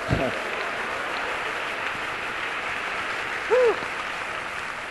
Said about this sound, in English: thank you very much for the applause for my in-laws